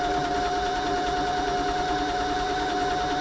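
A freshly serviced Janome 525s sewing machine runs continuously at steady speed, its motor giving a constant mechanical whir with a fine stitching rattle, close and fairly loud with no pauses.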